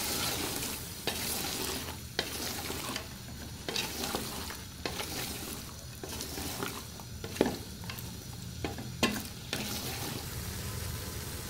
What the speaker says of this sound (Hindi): अब मैं इसके अंदर गोभी ऐड कर दूंगी। गोभी ऐड करने के बाद इसे अच्छे से हम मिक्स कर लेंगे।